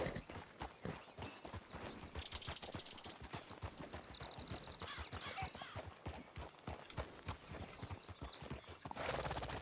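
Horse hooves clip-clopping in a steady trotting rhythm in the Western video game RedM (Red Dead), close and continuous, with an occasional whinny and faint game ambience.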